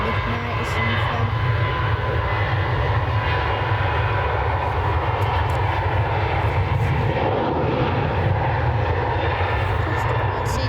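A jet airliner landing at Manchester Airport and slowing down, its engine roar loud and steady throughout, with broadband rumble that swells slightly near the end as it decelerates on the runway.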